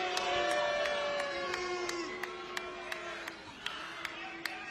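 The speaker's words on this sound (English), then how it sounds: "Crowd trying to get behind Rosemary, showing her plenty of respect for her decade in Impact Wrestling" Wrestling crowd in an Impact Wrestling arena, a sustained roar of cheering with scattered claps and sharp impact thuds, while a commentator talks over it.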